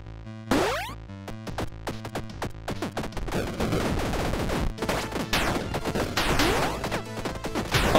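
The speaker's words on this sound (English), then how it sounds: "Bigger explosions." Explosions and gunfire in a free-to-play roguelike action video game, dense overlapping bursts and booms over a low musical drone, continuous and busy throughout.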